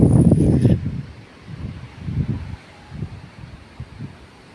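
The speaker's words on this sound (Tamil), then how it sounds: "பாருங்கள், காற்று எப்படி அடிக்குது பாருங்களேன்." Wind gusts buffet the microphone in low rushing waves, strongest at the start and returning in softer bursts, with no talking.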